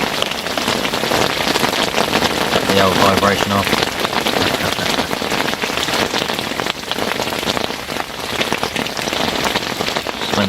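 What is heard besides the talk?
rain falling on fishing bite alarms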